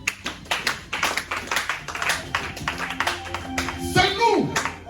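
A church congregation claps in rhythm during worship, a run of loud, sharp, evenly paced claps with voices rising over them toward the end.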